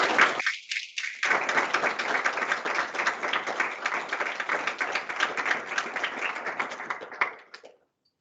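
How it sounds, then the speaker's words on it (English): A room full of people at a university careers event claps in a dense, sustained round of applause that lasts several seconds before tapering off abruptly. A brief thinner patch comes early in the clapping. "a round of applause for all of us today"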